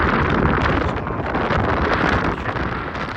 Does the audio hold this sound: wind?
yes